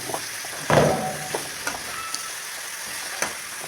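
A bilimbi dish is stirred and turned over in a hot pan, a steady sizzle running throughout with one louder scraping stir and a few soft clicks of the spoon.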